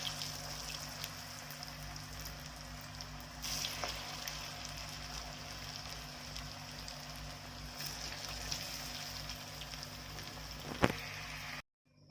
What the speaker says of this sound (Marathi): कडकडीत तेलामध्ये ह्या वड्या आपण सोडूया आणि छान क्रिस्पी होईस तोपर्यंत यांना आपण तळून घेऊ